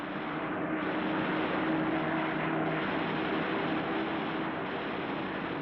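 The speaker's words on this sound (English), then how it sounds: "The Mustangs reached out to strike the German fighters as their formations assembled. Then they dropped to the ground to strafe parked aircraft." P-51 Mustang fighter planes flying over wartime Germany, their engines a loud, steady, unbroken drone that holds at the same strength throughout, with no voices.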